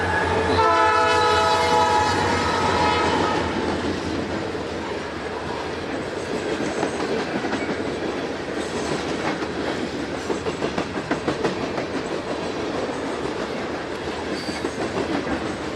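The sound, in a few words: Canadian National freight train with SD70 locomotives passing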